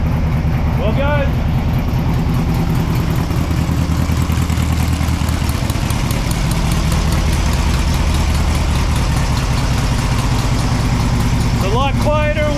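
Air-cooled Volkswagen beach buggy engine idling with a newly fitted, quieter exhaust: a steady, loud, close low burble with a slightly uneven idle from a tuning issue, running continuously under brief talk.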